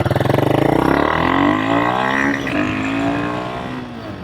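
A Royal Enfield Himalayan 452 motorcycle fitted with an AEW performance exhaust revs hard nearby, a loud pulsing bark rising in pitch, then easing into a falling engine drone.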